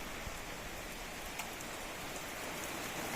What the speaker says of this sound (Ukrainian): Дощик пішов. Ого, наливає.